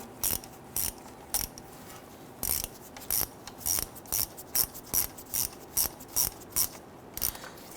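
Ratchet wrench snugging the mounting bolts on the transfer case shift motor of a 2006-2010 Hummer H3, heard as a quick series of sharp, close clicking bursts in a steady rhythm with short pauses between strokes.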